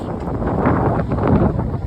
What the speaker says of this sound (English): it is so cold and so windy